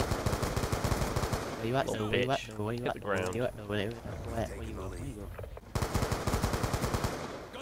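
Gunfire in the video game Black Ops 2 comes as rapid automatic bursts at the start and end of the stretch, with men chatting loudly over the middle section.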